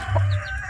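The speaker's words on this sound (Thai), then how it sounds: "ไก่เนาะ" Domestic chickens clucking with a rooster crowing, close and fairly loud, a short burst of farmyard fowl calls without talk.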